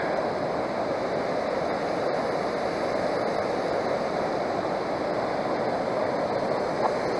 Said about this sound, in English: The water is just so loud.